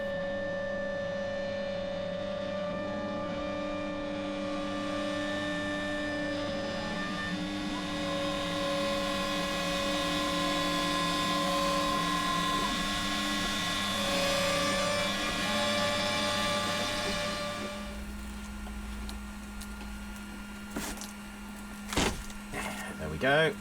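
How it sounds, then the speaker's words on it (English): A CNC router cuts timber templates with a steady, loud whine and grinding drone that runs for most of the stretch, then stops and gives way to a few sharp knocks and clatters. "The CNC router creates the templates much quicker and more accurately than I ever could have done by hand."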